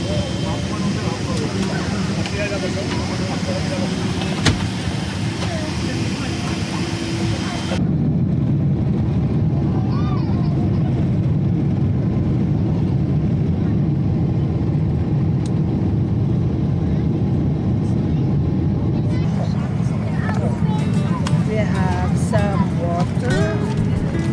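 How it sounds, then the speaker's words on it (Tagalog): Steady broadband roar of a crowded passenger airplane cabin in flight on a Stockholm to Manila route, constant engine and air noise throughout with a brief shift in tone partway through; people talk faintly over it. "Andito na kami sa loob ng eroplano."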